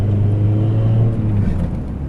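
A car's engine with its revs falling off quickly once the clutch is pressed, after a new Flashpro tune; a steady low drone that eases and fades toward the end, with no talk.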